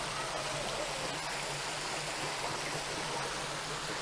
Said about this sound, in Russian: вот такое фонтан